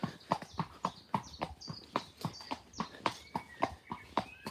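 Hooves of a ridden Friesian horse clip-clopping in a steady, even walking rhythm, each strike crisp and close, with no other sounds.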